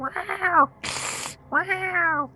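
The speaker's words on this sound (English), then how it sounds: "Theo realizes it's the sound of scared cats." Scared cats yowl in two long, rising-and-falling meows with a harsh hiss between them, played as a sound effect during a tabletop horror game.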